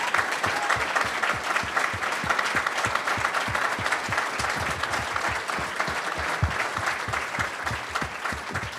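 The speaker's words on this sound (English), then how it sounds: "let's give them all a round of applause" Audience applause for military veterans standing at a kickoff party, a steady, dense round of clapping from a sizable crowd that holds strong for the whole stretch without speech.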